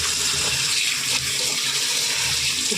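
Cold tap water runs steadily and loudly over boiled soybeans being rinsed, a continuous splashing rush with no talk over it.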